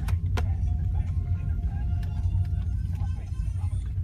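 A car driving past close alongside at night, a steady low road rumble with faint ticks and clicks over it, heard from inside a moving vehicle.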